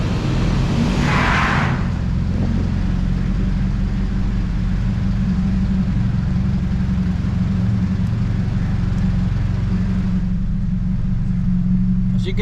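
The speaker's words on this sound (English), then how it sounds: "somebody's trying to drive a camper through it and it's going very slow" Slow-moving vehicle in the narrow Nada tunnel in Kentucky, likely a camper: a steady, heavy low engine rumble with a brief brighter swell near the start, loud and close, no voices.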